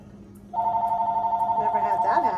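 A landline telephone rings in a kitchen, a steady electronic ring tone sounding continuously and fairly loud, with a voice starting to talk over it toward the end.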